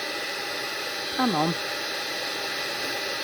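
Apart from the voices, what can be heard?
heat gun blowing while heating embossing paint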